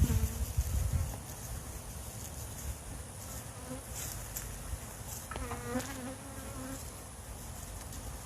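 Honey bees drone and buzz steadily around an open backyard hive, a close, continuous swarm hum with individual bees flying nearer at moments, no talking over it.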